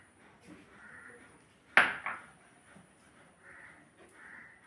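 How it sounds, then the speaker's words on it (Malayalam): A small metal kitchen pan, the kind used for tempering mustard seeds, gives a single sharp clank as it is picked up and set down for roasting coconut, standing out against a quiet room. "നമുക്ക് ചെറിയൊരു പാത്രം എടുത്ത് ഇതാ, നമ്മളെ കടുകെല്ലാം കാച്ചുന്ന പാത്രമാണ്"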